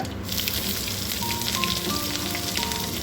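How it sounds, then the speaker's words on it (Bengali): Whole cumin and mustard seeds sizzle and crackle steadily in hot mustard oil, a close, continuous frying hiss with faint pops throughout and no talking. "আমি সর্ষের তেল দিয়েছি দেওয়ার পরে গোটা জিরে ও গোটা সর্ষে ফোড়নে দিয়েছি"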